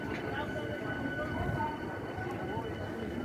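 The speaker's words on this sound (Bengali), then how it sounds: "ট্রেন আমাদের প্ল্যাটফর্মে এসে গেছে" A local train pulls into a platform in Kolkata, a low steady rumble and hum of the carriages, moderately loud and continuous with faint background noise.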